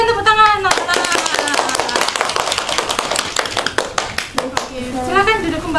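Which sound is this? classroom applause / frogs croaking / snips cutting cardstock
classroom applause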